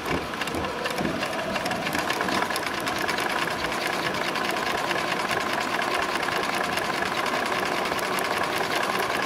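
A sewing machine runs nonstop while it stitches tarp fabric, a dense and steady mechanical whir with a fast needle chatter. The sound is close and even from start to finish.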